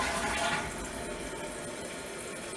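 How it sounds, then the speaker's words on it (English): A newly installed toilet flushes during a leak test, opening with a loud rushing gush that settles into a steady, softer swirl and refill hiss, close by and with no talk over it. "Now that the bowl is filled, you do your flush test."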